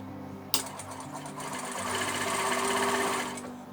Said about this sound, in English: Forward and back stitch to begin.